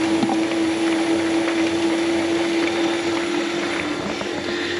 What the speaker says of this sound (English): And 10 on this extractor is full speed.